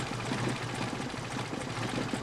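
A Mercedes-Benz 190SL engine fitted with Solex 44PHH carburetors idling very low at around 400 RPM, a steady close rumble with a rapid, even chuffing pulse.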